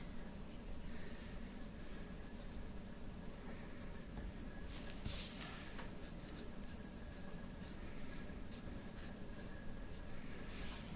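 A capital letter A being drawn, giving a steady, close scratchy writing sound that continues throughout, with one brief louder stroke near the middle.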